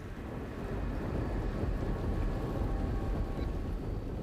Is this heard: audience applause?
no